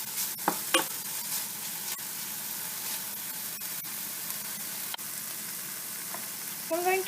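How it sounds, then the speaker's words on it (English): Ginger and garlic paste fries in a pan with a constant hissing sizzle, broken by occasional clicks and scrapes of stirring, close and alone without talk. "And I'll fry this just until the raw flavor of the ginger and garlic is gone"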